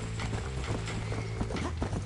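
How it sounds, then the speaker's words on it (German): Horse hooves clip-clopping in the Red Dead Redemption video game, a rapid, loud galloping rhythm of dense hoof strikes close up, continuous across the clip over a background game soundscape. "Och nein, das Pferd wurde getroffen."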